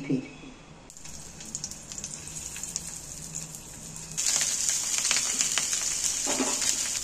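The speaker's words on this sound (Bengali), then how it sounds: "এবার বাকি আলুগুলো আমি ভেজে নেব।" Potatoes fry in oil in a pan with a steady hiss and crackle, and the sizzle grows clearly louder and denser partway through.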